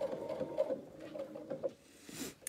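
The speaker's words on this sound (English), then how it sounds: "So what I'm sewing through right now is 2 layers of clothesline." A sewing machine stitches slowly through two layers of clothesline, giving a close, rhythmic mechanical whir with uneven pulses that taper off near the end.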